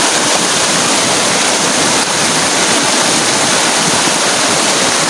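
A river stream flows in a loud, unbroken rush of water, close to the microphone and filling the whole scene without any voices.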